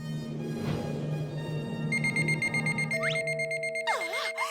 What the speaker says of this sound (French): Qui ose me biper au moment où je vais enfin être couronnée?